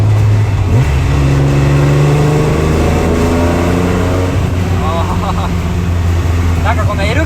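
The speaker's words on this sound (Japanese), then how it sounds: "なんかこの L 型の独特のおーっていうなんかねマッスルなサウンドがいいっすよね。" A Nissan Fairlady Z 240ZG (S30) with a 3-litre L28 engine, Solex carburetors running rough, headers and dual mufflers, roars loudly and rises in pitch as it revs up. People talk over the deep, continuous engine note throughout.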